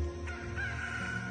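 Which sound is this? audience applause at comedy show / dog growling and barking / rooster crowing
rooster crowing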